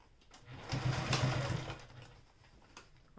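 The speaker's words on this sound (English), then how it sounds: "I'm just going to go a little bit behind that and do a little back stitch and go and finish up" A sewing machine running a short back stitch while a quilt block is finished, a brief close mechanical whir that rises, holds for about a second, then fades.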